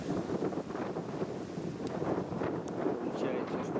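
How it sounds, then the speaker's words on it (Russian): Strong wind gusts buffet a microphone outdoors among burdock plants, a continuous broadband roar that swells and dips throughout, with a person speaking over it. "Сильный ветер, растишки."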